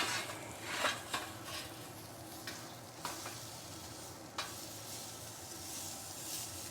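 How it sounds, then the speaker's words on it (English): A prime ribeye steak sears over charcoal on a Weber Jumbo Joe grill, giving a fairly quiet continuous sizzle with a few sharp clicks and clanks of tools against the grate. "this Jumbo Joe comes with a grill, spins very easily, makes a nice sear"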